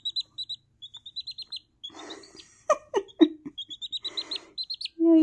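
A two-week-old Blue Ameraucana chick peeps in a rapid series of high, close chirps, broken by a short stretch of human talk partway through before the peeping resumes.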